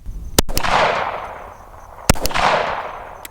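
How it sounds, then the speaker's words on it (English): Two sharp Glock 19X pistol shots fired at targets 100 yards away, each a loud crack trailed by a long rolling echo across an open range, with no talking. "100 yards with the Glock."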